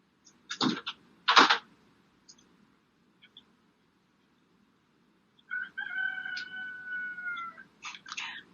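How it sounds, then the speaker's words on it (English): A rooster crows once in a long, drawn-out call in the middle distance, preceded and followed by short bursts of other clucking or squawking sounds in a quiet setting. "my speaker picked up the rooster in the background"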